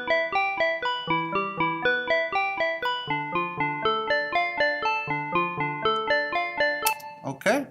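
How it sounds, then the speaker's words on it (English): Synth chord notes run through an arpeggiator, bouncing in a steady, evenly spaced stepped pattern of bright tones at close range, ending with a brief burst of noise. "but now I'm going to put an arpeggiator on it."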